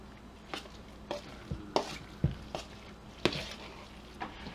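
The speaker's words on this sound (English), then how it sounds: "We're going to add the 4 eggs now." Four eggs are cracked and plopped into a Wonder Woman dressing mix in a bowl, giving a series of soft, sharp taps and wet splats spaced about half a second apart, quiet and close.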